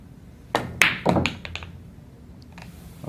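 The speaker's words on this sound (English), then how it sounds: "But first we're going to shoot a center shot and just try to make the ball." A pool cue strikes the cue ball dead center for a straight-in shot, giving a sharp knock followed by a few quick clacks and a fading thud, close by with no talking.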